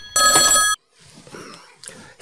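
An old-style telephone bell rings loudly in one short burst, then stops abruptly as quieter background sounds follow.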